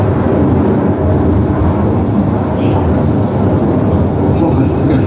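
A thunderstorm rumbles as rain begins over an animated stage show, a dense, loud, continuous roar with low rolling thunder throughout.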